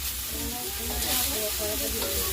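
Pumpkin pieces sizzle steadily in hot oil in a pan while being stirred, a continuous close frying hiss with soft scraping of the spatula throughout.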